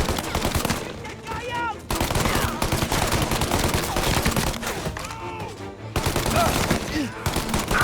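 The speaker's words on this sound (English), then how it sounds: "All on-duty officers, gunshots being reported." Rapid bursts of automatic gunfire rattle loudly in quick succession, broken by short pauses, with impact sounds and brief voice fragments from the game Mafia: Definitive Edition.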